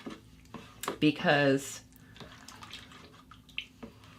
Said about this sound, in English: I'm going to just stir this around and make sure that there's bubbles and oxygen